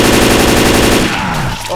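Rapid automatic gunfire rattles in the Left 4 Dead 2 video game, a dense, loud, close burst for about a second before tapering into scattered noise.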